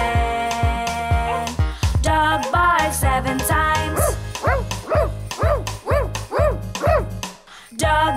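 A dog barks seven times in a steady, evenly spaced series of loud, close yips, ringing over a bright preschool song backing with no speech.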